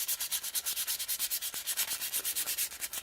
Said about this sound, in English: take you some sandpaper, and we're going to go and rough up the entire chassis